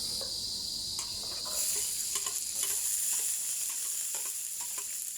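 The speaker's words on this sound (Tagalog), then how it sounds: "lagay na ako na mainit na ang mantika" Ingredients for papaya and malunggay guisado dropping into hot cooking oil, a bright steady sizzle swelling as they hit the pan, with scattered scraping stirs and clicks close by, no voice.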